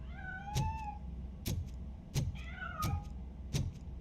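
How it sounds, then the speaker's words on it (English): Cat meows in the Robocop Rogue City video game, five short mewing calls spaced roughly a second apart, clear and moderately close over a low background hum. "Where the fuck is this cat?"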